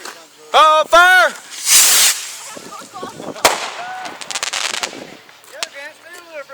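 Fireworks go off outdoors after being lit, producing one sharp bang and brief crackling. Excited shouting voices come before and after the bang.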